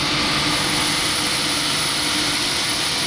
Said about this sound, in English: the APU will be very loud